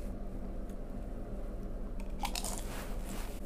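Pringles Loud Salsa Fiesta chips bitten and chewed close up, with soft crisp crunches rising toward the end over a low steady background hum.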